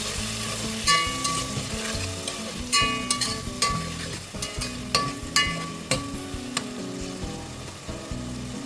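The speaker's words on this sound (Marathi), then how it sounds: "तर ह्यामध्ये मी घालत आहे 2 टोमॅटो। हे टोमॅटो देखील आपण आता परतून घेऊया।" Two tomatoes sautéing in a pan over medium heat for korma biryani, a steady close sizzle broken by sharp clinks and scrapes of a spoon stirring at irregular intervals, with no voices.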